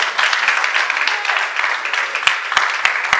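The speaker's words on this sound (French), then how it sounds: "Est-ce qu'on peut acclamer très fort pour la parole du Seigneur?" A church congregation applauds loudly, a steady wash of many hands clapping throughout, with a few sharper claps standing out near the end.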